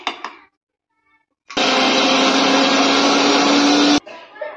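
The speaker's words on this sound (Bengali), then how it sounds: "আমি এখানে মিক্সির মধ্যে পেস্ট করে নিচ্ছি ডালগুলোকে" Electric mixer grinder grinding soaked chana dal into paste, a loud steady whirring roar for about two and a half seconds that starts and stops abruptly, with someone talking before and after.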